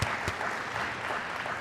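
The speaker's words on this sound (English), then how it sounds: "So round of applause." Audience applause at a speech event on sideways markets, a short burst of steady mid-sized clapping heard alone.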